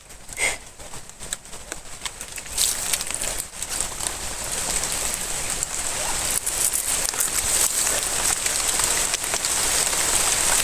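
Sudden heavy rain falls outdoors, a dense hiss that starts with scattered drops and quickly builds to a steady, loud downpour close around.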